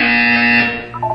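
Electronic buzzer in the video game Portal 2, a loud, steady harmonic drone that fades out after about half a second, followed by a faint higher tone.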